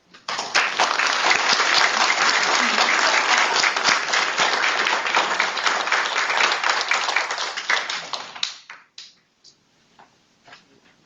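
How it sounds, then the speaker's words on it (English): An audience at a Law Week proclamation ceremony breaks into loud, sustained applause that holds steady for about eight seconds, then thins into a few scattered claps and stops. "let's give a round of applause for this historic event"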